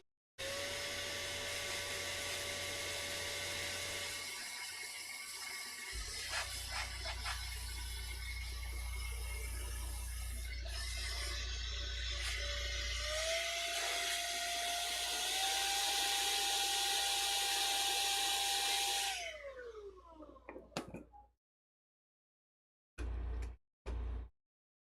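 Compressed air blowing out the HDMI port area of a PS5 Slim after repair, a loud continuous hiss that shifts in pitch, then cuts off, followed by two short bursts after a pause.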